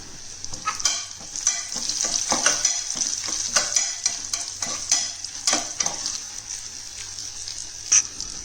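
Cashews and crushed pepper frying in a pan with asafoetida, a continuous bright sizzle broken by repeated sharp stirring scrapes and clicks, close up and alone without voices.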